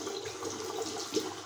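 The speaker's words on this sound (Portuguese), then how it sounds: "Passar a máquina debaixo da água, assim, e tiro." A Razorock BlackHawk safety razor is rinsed under running tap water, giving a brief, steady, quiet splashing hiss with small irregular spatters, and one slightly louder splash near the end.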